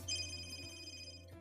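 A phone rings with an incoming call, a steady electronic ringtone tone heard clearly and alone, close and fairly soft.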